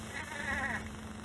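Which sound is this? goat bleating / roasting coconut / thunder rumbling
goat bleating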